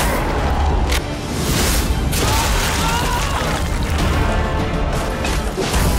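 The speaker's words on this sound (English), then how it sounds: "Its explosion triggers a powerful blast of light that wounds vampires instead of blinding them." Light bomb going off in the vampire game Nosgoth, a sharp crash and boom followed by rumbling, crackling debris and a second sharp hit later, loud and close amid battle noise.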